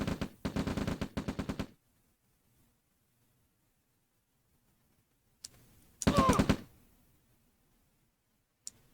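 Rifle infantry gunfire in the real-time strategy game OpenRA Red Alert: a rapid burst of crackling shots, a long quiet gap, then a second short burst and a single isolated shot, crisp and fairly faint.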